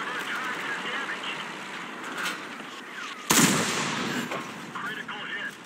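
Tank cannon fire in the World of Tanks Frontline game, a sharp loud boom followed by rumbling battle noise and distant gunfire, while a player talks over it.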